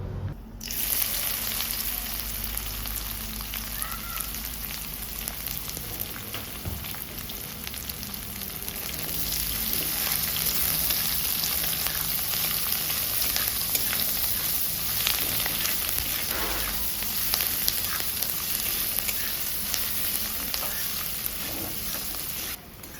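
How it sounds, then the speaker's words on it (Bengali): Chopped onions fry in hot oil with a loud, continuous sizzle, with occasional stirring scrapes and crackles and no talking. "ফোড়নগুলো ভাজা হয়ে গেল এবার কেটে রাখা পেঁয়াজ দেবো"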